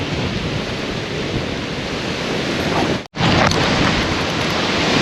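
Heavy rain falls loud and steady as a dense broadband roar, with a brief dropout partway through before the downpour resumes.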